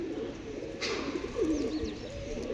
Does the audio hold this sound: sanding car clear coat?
no